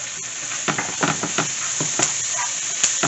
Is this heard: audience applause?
no